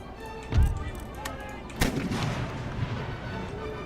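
Artillery cannons fire in an Empire: Total War battle, one heavy boom followed a moment later by a second sharper blast, with rumbling gunfire and battlefield noise continuing underneath.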